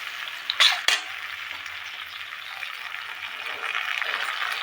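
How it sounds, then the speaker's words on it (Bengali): Chilli chicken with tomato sauce and soy sauce being stirred in a hot pan, two sharp utensil knocks early, then a soft steady sizzle with light stirring. "এই দুটো একটু নেড়ে চেড়ে"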